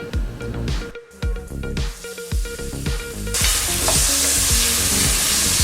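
Finely chopped tomatoes fry in a hot pan for pav bhaji. Repeated loud spatula strikes and scraping sit over a crackling sizzle that swells into a dense, continuous hiss in the second half.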